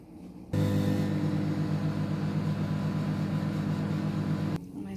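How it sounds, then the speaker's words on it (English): A microwave oven runs steadily with a loud, even hum, cooking a bowl of pasta with milk and butter, starting abruptly and cutting off after about four seconds. "Mix it and put it in microwave."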